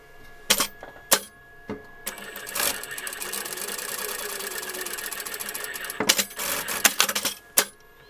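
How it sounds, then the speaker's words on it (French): A sewing machine stitches the edges of a doll's scalloped dress, running steadily for several seconds between short bursts of starting and stopping, close and fairly loud. "Et de la même manière, on va venir coudre."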